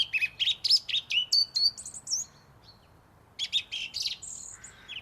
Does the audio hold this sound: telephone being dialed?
no